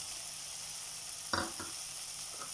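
Paneer hits a hot pan for a crispy paneer burger, giving a short burst of sizzle at about mid-clip over a steady low frying hiss, with a couple of faint stirring clatters afterward.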